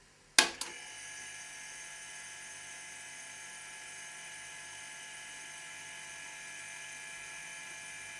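An old airbrush compressor starts with a sharp click, then runs with a steady, even mechanical hum and faint rattle, no hose attached, close and unchanging for several seconds.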